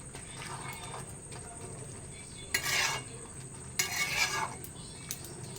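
A spoon stirs boiled shyama rice with Malabar spinach and tomato in a pot, giving two short bursts of scraping and clatter over a faint, steady kitchen background.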